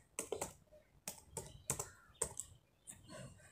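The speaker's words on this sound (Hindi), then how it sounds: "सर्च बॉक्स में सर्च करना है कंट्रोल पैनल लिख करके।" Typing on a computer keyboard, a short burst of sharp, close keystrokes in quick irregular clusters, alone with no talking.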